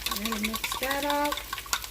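A spoon stirring beef stock and water in a kitchen container, producing light clinks and swishing, with a voice speaking over it.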